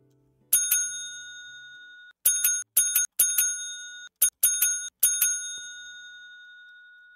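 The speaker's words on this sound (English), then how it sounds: "Okay, bell is working." A hotel front-desk bell in the video game Hotel Business Simulator dings repeatedly, bright metallic strikes with ringing tails, first two quick hits and then several rapid clusters, loud and close in otherwise quiet surroundings.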